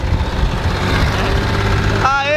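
A tractor engine runs with a steady low rumble throughout, and a brief whistling tone rises near the end.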